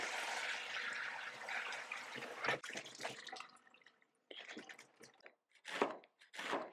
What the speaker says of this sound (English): So I'm just going to give these an extra rinse just to make sure that we're not including worms in our sauerkraut.